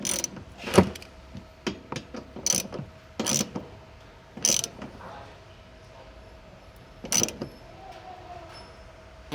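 Hand ratchet tightening bolts on a rear roof shelf inside an Isuzu MU-X, heard as several short bursts of clicking spread across the clip with quiet gaps and faint handling noise between.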